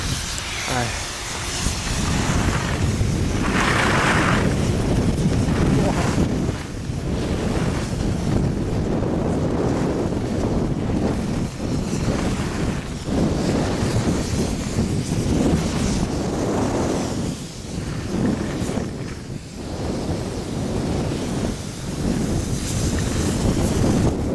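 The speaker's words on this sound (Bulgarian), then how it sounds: "Малко вятър е, не знам дали как се чува това." Strong wind buffets the microphone while skiing downhill, a loud, continuous rumbling roar with gusty surges that carries on for the whole stretch.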